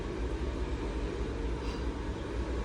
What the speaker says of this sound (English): Sorry about the vehicle noise in the background.